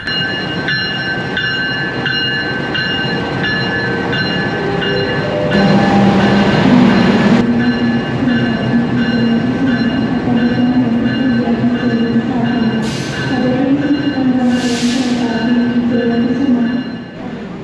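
A passenger train in Indonesia rumbles and clatters along the rails, loud and close. A rising mechanical whine joins midway and a brief hiss of air sounds near the end.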